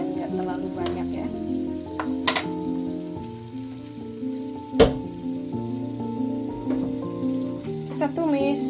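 Sautéing in a pan while making oxtail soup, a steady soft sizzle that runs continuously under prominent background music with sustained tones, plus a brief sharp clatter near the middle.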